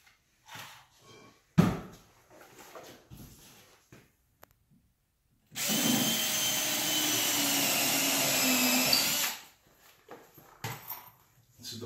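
Power drill driving 5-inch exterior wood screws into countersunk holes on DRICore SMARTWALL panels, a loud steady whir of about four seconds set between brief handling clatter and quiet gaps.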